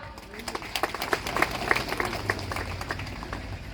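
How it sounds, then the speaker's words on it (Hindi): Audience applause at a political speech by a Union Minister, a dense wash of many hands clapping at once that swells and stays busy throughout, with scattered voices mixed in. "अगर सही है तो ताली बजाओ।"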